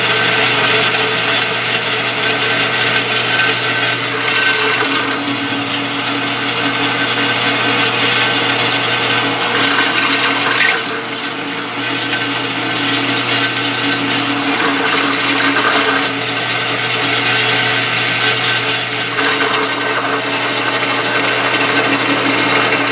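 A sharp drill bores into metal while making the hand-piece for a homemade hand engraving machine, giving a steady, loud grinding whine that continues for the whole stretch with only a brief dip midway.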